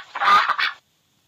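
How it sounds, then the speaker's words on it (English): A cartoon duck call from a children's farm-animal puzzle game on mobile: one short, loud, honking quack lasting under a second, followed by silence. "Duck."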